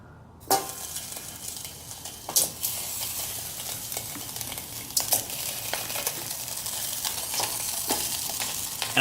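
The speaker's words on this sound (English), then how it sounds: "Now the next step is we just start frying it up." Spam slices sizzle and crackle in a metal canteen cup, a steady frying hiss with occasional sharp pops and scrapes of stirring, close and continuous.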